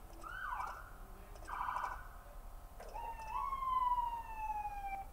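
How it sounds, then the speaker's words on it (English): Police car siren cycling through different tones: short rising wails, then a long sweeping tone that slowly falls, fairly loud and steady over a low background rumble, with no talking. "Different siren noises."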